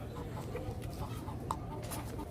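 Chickens at a livestock market in Jeddah give faint, scattered clucks over a low, murmuring market background.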